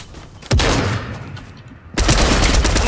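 Loud, close Fortnite gunfire in two heavy bursts, one starting sharply about half a second in and a louder one near the two-second mark, each a dense rattle of rapid shots.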